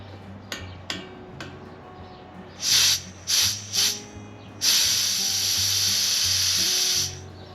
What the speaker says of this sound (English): open up the other one, and you'll hear the gas start to flow